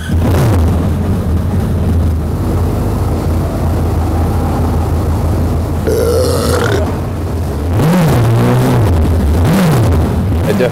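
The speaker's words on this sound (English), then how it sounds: "I definitely think the sound of the car is a lot better than Furious Pete's burp" Sports car engine revving on a German tour, a loud low continuous engine drone with a sharper burst midway and rising, swooping revs near the end, with no talk over it.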